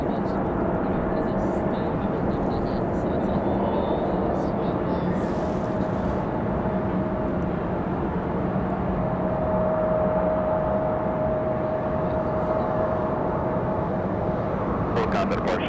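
A Frontier Airlines jet arriving from Boston at Raleigh-Durham International, a steady broad engine roar with a sustained whine, moderately loud and constant throughout, with wind and outdoor noise around it.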